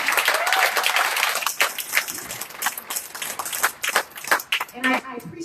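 An audience at a neighborhood candidate forum breaks into applause that starts full and then trails off into scattered claps as a speaker resumes talking over the fading sound.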